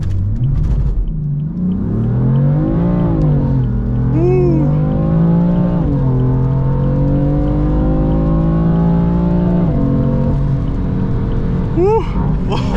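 A 431 hp 3.0 turbo BMW M4 with a DCT gearbox launches hard from a standstill, its loud engine note climbing and dropping through quick gear changes. A voice exclaims briefly over the engine noise.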